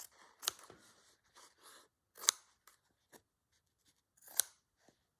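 Scissors snipping through grey fabric pieces, a handful of sharp close crunchy cuts spaced irregularly with quiet gaps between, no voices.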